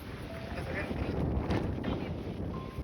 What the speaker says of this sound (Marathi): खतरनाक असं वारा आहे त्यामुळे आवाज येत काही माहित नाही